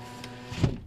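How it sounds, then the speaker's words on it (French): A car's power window motor whirs briefly, a short rising electric hum that ends in a soft thud as the glass seats, close and fairly quiet, with no talking. "Je vais fermer un peu les fenêtres."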